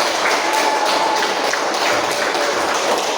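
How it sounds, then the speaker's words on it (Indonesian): Dense, even applause fills a hall for a police chief, many hands clapping at once in a steady wash of sound that holds constant for about three seconds. "tepuk tangan untuk Pak Kapolda"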